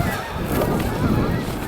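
Geese honk in the cold outdoors where sick birds are spinning on the ice, a dense, continuous chorus of calls over a rough background that stays loud throughout, with no one talking.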